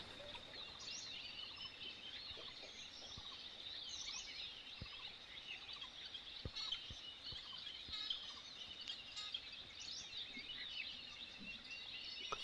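Birds call from trees beside a farm garden in the cool hours, with many thin, repeated chirps and twitters overlapping at a moderate distance over a quiet background.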